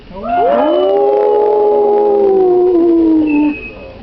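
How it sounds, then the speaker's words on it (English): A loud chorus of voices at a zoo wolf show howls together like wolves, one long drawn-out wavering howl that swells and then fades. "Let's all give a great big howl"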